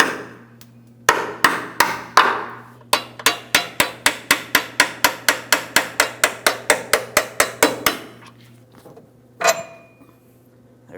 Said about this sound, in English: I'm just going to use a hammer and a punch